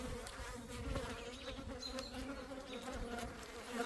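Honeybees buzzing steadily inside a hive built from trash during a heavy nectar flow, a dense continuous drone close by with no talking.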